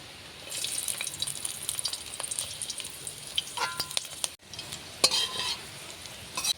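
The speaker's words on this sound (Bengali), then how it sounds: "প্রথমে আমি কাঁচা লঙ্কার কুচিগুলো কড়ার মধ্যে দেবো।" Chopped green chillies dropped into hot oil in a kadai crackle and sizzle sharply, with scraping stirs and spoon clinks over a bright continuous frying hiss, close and alone.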